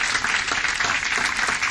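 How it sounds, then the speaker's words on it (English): Audience applause fills a city council meeting honoring a Golden State Warriors player, a steady dense wash of clapping from a crowd, moderately loud and continuous with no talk over it. "Let's give him a round of applause."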